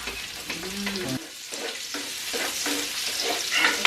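Garlic paste and onions fry in a pan with a steady, close sizzle, broken by a brief tonal clatter early on, then crackling and spitting continuously.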